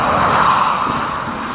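Cars drive past on a winding mountain pass road in winter, a steady close-up rush of traffic noise with continuous wind and road roar and no distinct pauses.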